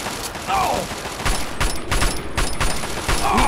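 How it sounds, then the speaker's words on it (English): Gunfire in Fallout 3's Operation: Anchorage, a steady clatter of rapid shots and impacts at close range with no break. "Don't walk in front of my bullets, please."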